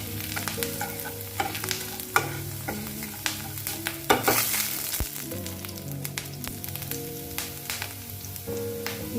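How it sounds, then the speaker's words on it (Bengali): Chopped ginger frying in leftover chicken-frying oil for chili chicken gives a continuous loud sizzle, with scraping stirs and occasional utensil knocks throughout. "আদাটা একটু ভাজা ভাজা করে নেব।"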